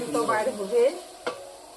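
Curd-based spice paste with dry red chilli powder frying in a pan for an egg curry, with a short burst of stirring and scraping over a soft sizzle.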